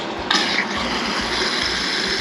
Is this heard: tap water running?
yes